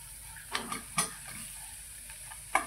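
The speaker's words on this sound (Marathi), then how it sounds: "गूळ इथपर्यंत आपल्याला परतून घ्यायचे" Jaggery being stirred and sautéed in a pan with grated coconut for a sweet modak filling, with a soft sizzle under a few scraping strokes of a spoon against the pan, close and fairly quiet.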